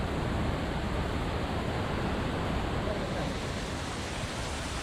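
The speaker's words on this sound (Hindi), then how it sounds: "exploring this waterfall" A hidden waterfall in Maharashtra roars as a dense, steady rush of falling water, loud and close, with no breaks over the few seconds.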